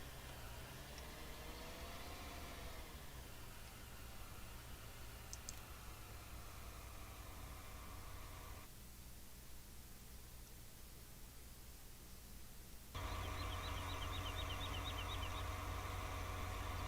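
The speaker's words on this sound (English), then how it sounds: "I want you guys to be able to hear the tractor." A tractor engine in the Farming Simulator video game drones low and steady, very faint, with a hissy noise bed. The tone shifts in distinct steps and grows a bit louder near the end.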